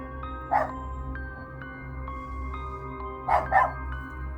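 A dog barks close by, one sharp bark followed about three seconds later by a quick double bark, over a steady low background hum.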